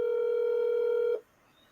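Phone call ringback tone, a steady electronic tone that holds for just over a second, then cuts off abruptly into near silence.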